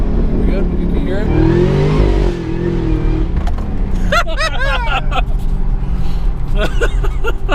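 A 2014 Chevrolet Camaro ZL1 V8 fitted with a Borla exhaust revs loudly up close, its engine climbing and settling through deep rumbling pulls while people talk over it.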